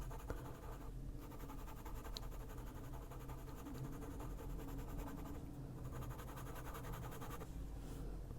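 A colored pencil scratches continuously across paper during adult coloring, a close, dry, rasping scrape with brief pauses between strokes, fairly faint overall.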